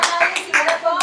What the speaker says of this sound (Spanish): Démosle un aplauso al Señor, un aplauso al Señor.